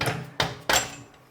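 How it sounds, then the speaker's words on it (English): Three sharp knocks of gentle hammering on a stuck engine case of a 2017 KTM during a bottom-end overhaul, close and evenly spaced, each a quick metallic-woody thud with short decay. "this end is a little bit stuck, so I'm just going to do some gentle hammering"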